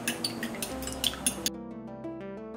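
A metal spoon clinks and scrapes against a bowl while stirring sugar into a yeast mixture for homemade pizza dough, giving a run of close, irregular taps that stop midway, leaving a steady tonal hum behind.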